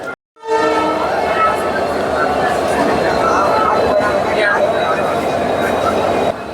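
An express train rumbles loudly as it pulls out of Rameswaram station, steady rolling noise with a horn tone, close by, after a brief silence at the start.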